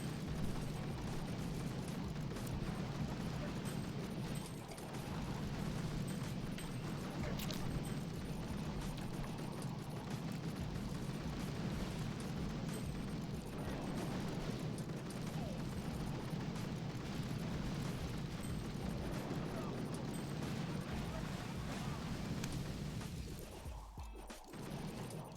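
In the Boom Beach video game, a grenadier attack sets off a dense, unbroken barrage of explosions and crashing impacts that rumbles on for about 25 seconds with no talking.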